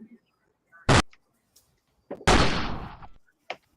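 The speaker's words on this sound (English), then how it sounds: "Cue them gunshots" Gunshot sound effects played in a radio studio, a sharp blast followed by a louder burst with a decaying tail, sounding over loud, overlapping banter between hosts.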